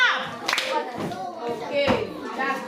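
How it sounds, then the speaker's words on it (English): A class claps during a lesson, a few sharp claps ringing out under and between an adult voice talking, brief and close in a small room. "A sound clap."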